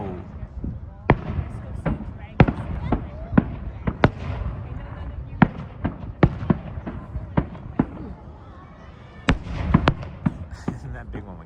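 Fireworks burst over Ashbridges Bay in Toronto for Victoria Day, a string of sharp booms at irregular intervals, some near and loud, others softer, with people chatting and reacting throughout.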